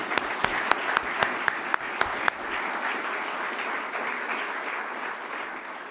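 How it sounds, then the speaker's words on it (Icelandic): Graduation audience at a school ceremony breaks into steady applause from a large crowd in a hall, with a few sharp nearby claps standing out at the start before it settles into a dense, even wash. "Ég held að það sé vel við hæfi gefum öll gott klapp."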